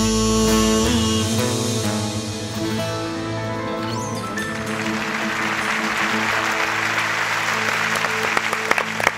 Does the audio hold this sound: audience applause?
yes